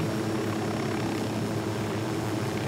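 Helicopter hovering in the video game Ghost Recon Wildlands, a steady, dense rotor and engine drone that holds even and loud with no talk over it.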